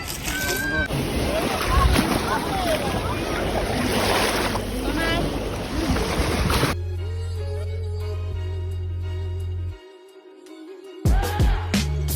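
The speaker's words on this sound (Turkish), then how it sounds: "Sinop'ta denize geldik." Black Sea waves at Sinop, Turkey wash and surge loudly with heavy wind buffeting the microphone, then the scene shifts to a steady hum with faint voices.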